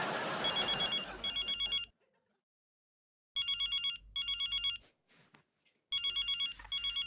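A telephone bell rings in repeated double bursts separated by short silences, loud and clear with no talking.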